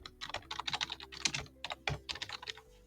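Rapid clicks of a computer keyboard while typing a new name for an automation module, close and crisp with irregular bursts of keystrokes and brief pauses, no voices.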